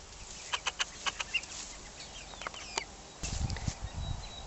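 Chickens in a chick coop give a series of short, sharp clucks and calls, fairly close, followed by a low rustling, scuffling noise near the end.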